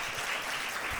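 Audience applause on an Armenian TV show, a steady wash of clapping that fills the short moment with no clear voices.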